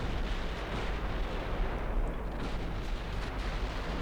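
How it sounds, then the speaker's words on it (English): Heavy 14-inch naval guns firing in the warship game Ultimate Admiral Dreadnoughts, a continuous deep rumbling roar of distant artillery with no talk over it. "24-second reload with a 14-inch gun"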